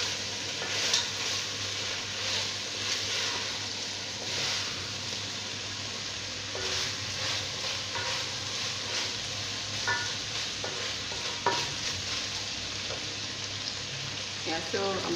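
Pork frying in a pan with very little oil, a steady close crackling sizzle running throughout with occasional sharper spits and pops, no voices over it.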